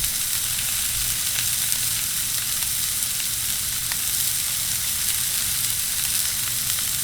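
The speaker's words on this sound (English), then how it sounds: "you want to throw on your jalapenos just off to the corner" Jalapenos and steak cook on a Blackstone griddle with a loud, steady, close sizzle and crackle that holds unbroken throughout, with no voices.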